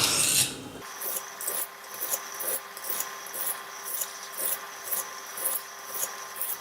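A blade is drawn across a sandstone in steady sharpening strokes, about ten close rasping scrapes in an even rhythm, each a short gritty swipe with brief pauses between.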